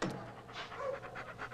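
A dog pants close by in quick, steady breaths, a short soft burst with no other sounds.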